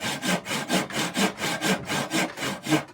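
Rhythmic, close-up sawing through bamboo with a pruning saw, about nine strong strokes in steady succession with a rough, raspy texture.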